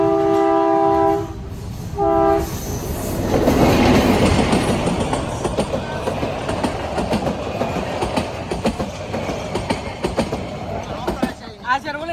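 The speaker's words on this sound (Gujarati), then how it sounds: "ટ્રેન આવી ગઈ છે ગીરની હેરિટેજ ટ્રેનના દર્શન આપ જોઈ શકો છો" A Gir heritage train arrives with a loud, close two-part horn blast, then the heavy rumble and clatter of railcars rolling past, and a voice briefly speaks over the passing wagons.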